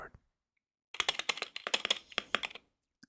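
Typing on a Wooting 60HE keyboard, a quick run of crisp close-up key clicks after a quiet start, with a few isolated taps at the edges.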